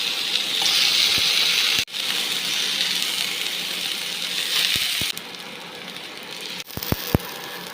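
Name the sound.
green chili deep frying in oil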